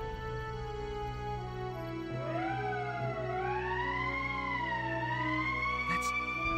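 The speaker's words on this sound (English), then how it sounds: "That's the emergency siren." An emergency siren from the video game Valkyria Chronicles begins about two seconds in, wailing in slow rising and falling sweeps over a steady tonal background that holds throughout.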